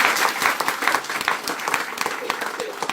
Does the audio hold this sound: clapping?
yes